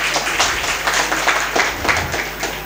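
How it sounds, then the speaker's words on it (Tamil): Scattered applause from a crowd at a Catholic feast-day Mass for St. James in Kadambur, steady clapping that carries on at a moderate level for the whole moment. "கைத்தட்டல் மட்டும்தான் கேட்குது"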